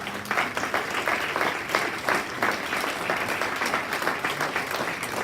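A church congregation claps together steadily during a worship service, a dense, sustained round of applause that fills the room at even volume throughout.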